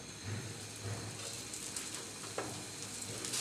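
Paratha frying in oil in a pan, a continuous bright sizzle with soft crackles and a brief pop near the end, close and steady with no voice over it.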